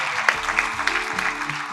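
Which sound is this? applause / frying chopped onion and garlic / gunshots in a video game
applause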